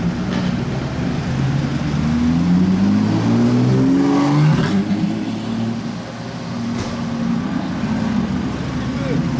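Porsche 992 GT3 driving past on a road among other cars, a nearby engine note rising and falling with traffic rumble, while a person talks.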